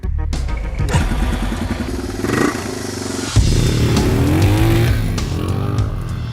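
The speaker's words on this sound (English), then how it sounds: "a motorcycle can easily get down those" Motorcycle engine riding along rough rural dirt tracks in Zambia, a steady close droning roar with rising and falling revs, shifting pitch as it moves, no talking.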